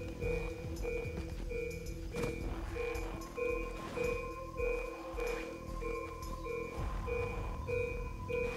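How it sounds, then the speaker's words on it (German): Repeated electronic beeps from a package locator device in the video game Far Cry 3, sounding in a steady rhythmic series over a busy background of game noise. "Der Piepton zeigt die Entfernung an. Je schneller das Piepen, umso näher ist das."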